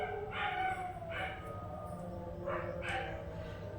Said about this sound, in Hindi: कुत्ते भौंक रहे हैं गाइस